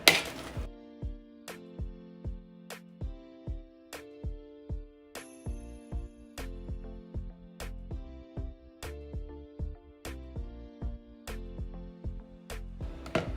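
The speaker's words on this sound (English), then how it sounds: "So we're just going to go ahead and mash this up." Potato masher pressing through an egg mix for sandwiches in a home kitchen, a steady series of soft rhythmic thumps against the bowl, roughly two per second, close and alone under a light background of music.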